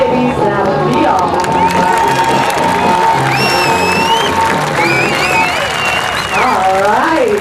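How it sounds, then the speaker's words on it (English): A crowd at a Farmall tractor square dance in Nemaha, Iowa claps steadily and loudly for several seconds, with voices and ongoing background sound mixed into the applause. "They're really clapping because they didn't think you guys were going to get back in the center."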